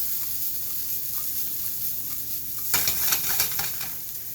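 Tomatoes hit a pan of sweated vegetables for a veggie omelet; a low background sizzle jumps into a sharp, louder crackle partway through, with a few stirring clatters, close and without speech.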